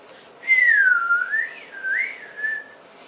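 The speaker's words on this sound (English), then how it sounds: "Well, I can whistle, but I can't like get anyone's attention with it. It's just like passing wind through my lips." A person with Bell's palsy whistles softly through the lips, making a thin, airy tune that glides down and up in a few wavering phrases, faint and breathy with no talking.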